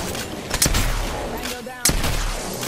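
Gunfire in the Apex Legends battle royale game, with a couple of sharp shots over a dense, noisy backdrop of ongoing game action and rumble.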